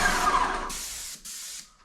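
A Graco X5 paint sprayer spraying water bursts out in a hissing spray, loud at first, then cuts off and resumes in shorter bursts with brief pauses between them.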